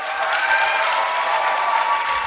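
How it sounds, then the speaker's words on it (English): Live podcast audience at a performance hall applauds an audio engineer, a dense, steady wash of clapping at fairly close range, loud and even throughout the short burst. "Big round of applause for Morgan."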